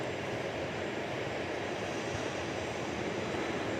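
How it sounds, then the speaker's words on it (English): An American Airlines Airbus A319 arriving at DFW from San Antonio fills the air with a steady, even jet rumble, fairly faint and distant, continuous throughout with no talking. "here comes the flight from San Antonio"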